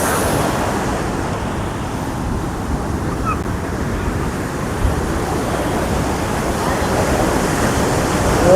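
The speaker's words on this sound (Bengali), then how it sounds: "পেছন দিকে জাস্ট ঢেউগুলো দেখো, কত বড় বড় ঢেউ আসছে" Big ocean waves rolling in at Puri beach, a loud, continuous wash of surf and wind close by, with no clear breaks between waves and no speech.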